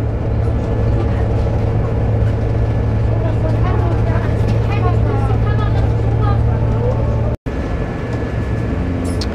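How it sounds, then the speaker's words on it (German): Solaris Urbino 15 city bus in Potsdam rounding a corner, heard from inside as a steady loud engine drone and road rumble throughout, with a brief dropout near the end. "gespannt, wie der Urbino um die Ecken gleich fährt,"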